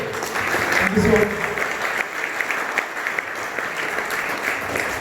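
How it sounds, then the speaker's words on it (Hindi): A presentation audience in Nagpur breaks into clapping, a continuous wash of applause from a crowd at moderate level, with a voice briefly heard over it near the start. "तो जोरदार ताली से फॉर सतीश खोड़े।"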